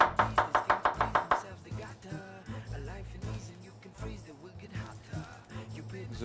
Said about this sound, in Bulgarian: Нарязваме на тънко.